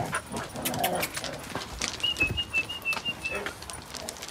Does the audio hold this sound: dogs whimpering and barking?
yes